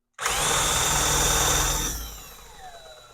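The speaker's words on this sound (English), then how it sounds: "I want to spin it all the way at high speed on my drill" A drill spins at high speed to turn the magneto of a 1951 Gravely Model L walk-behind tractor, a close loud whine lasting under two seconds before winding down.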